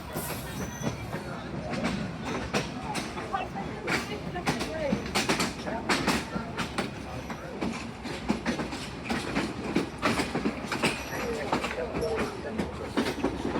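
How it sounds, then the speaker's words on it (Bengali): The Rupashi Bangla Express, bound for Dhaka, rolls into Jessore Junction station with rhythmic clickety-clack from its wheels on the rails and occasional squeals, heard close up from on board. "আমাদের ঢাকাগামী রূপসী বাংলা এক্সপ্রেস ট্রেনটি এখন যশোর জংশন রেল স্টেশন প্রবেশ করলো"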